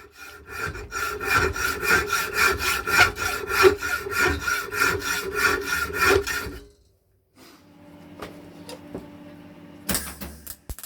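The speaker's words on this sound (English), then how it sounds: "at this point this hacksaw blade is actually quite dull" Hacksaw with a dull blade cutting through scrap iron, heard as a loud, steady rhythm of rasping back-and-forth strokes that stops after about six seconds, followed by quieter clinks and handling noises.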